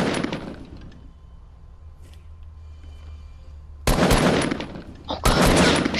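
Gunfire in the Fortnite video game sounds as loud, dense bursts of shots, one fading at the start and two heavy rapid volleys near the end, with quiet game ambience between.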